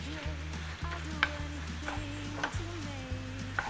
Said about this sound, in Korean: 오징어 아까 맛술하고 전분을 넣은 것을 다 넣어주세요. 넣고 볶아줍니다.